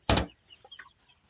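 A sharp knock or thump comes first, then a few soft, brief clucks from chickens inside a chicken coop, close by and faint.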